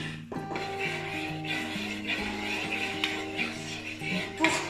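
A giant-bubble soap mixture with glycerine being stirred in a container, giving a steady clinking and scraping of utensil against vessel that carries on throughout, with a sharper knock near the end.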